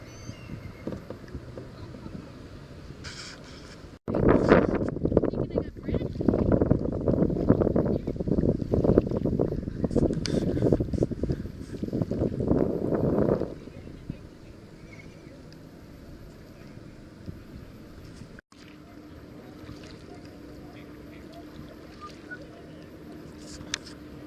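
Kayak paddling along a London canal channel: rough, splashing water and broadband wash swell loudly for about ten seconds, then ease to a quieter background with a faint hum.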